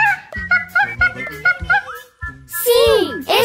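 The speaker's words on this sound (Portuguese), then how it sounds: "Esse é o som de um macaco!" In a children's animal-sound guessing game, a voice speaks briefly. Then comes a loud, high, swooping monkey-like cry with rapid up-and-down chattering calls.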